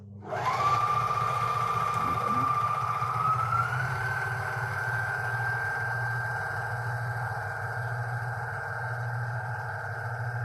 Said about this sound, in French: donc ici je fais un ourlet roulé, c'est un des points que toute surjeteuse peut faire